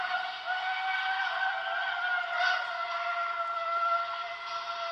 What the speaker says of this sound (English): 25 is a long whistle.